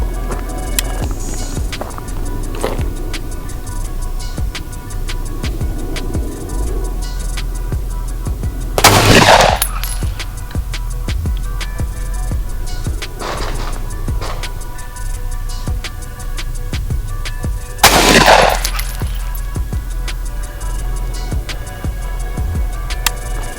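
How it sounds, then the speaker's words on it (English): Two sharp, loud gunshots from a 9mm pistol and an AR-15 rifle fired at pig meat outdoors, spaced about nine seconds apart over a steady low rumble and faint ticking background. "I'm just going to shoot it and shoot it and record what happens"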